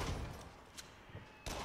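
Gunfire in a VR video game sounds as a dense, noisy clatter of shots with a few sharper bursts and a louder volley near the end, fairly faint overall.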